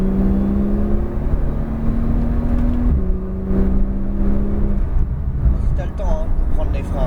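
A Porsche 911 Turbo S accelerates hard on the La Ferté-Gaucher circuit, loud in-car engine tone climbing steadily through the gears with a shift around three seconds, then easing off.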